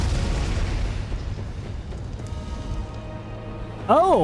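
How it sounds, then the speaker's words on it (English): Random explosions in the video game Final Fantasy XIV make a heavy, rumbling booming wash that starts loud and fades gradually over a few seconds. At the very end, a voice starts talking. "Random explosions."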